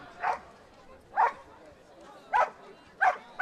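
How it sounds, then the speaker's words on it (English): A Malinois on a dog sport jumping course gives four sharp, evenly spaced barks, moderately loud and close, with an announcer talking over the arena background. "On course now, asking to be released is a Malinois."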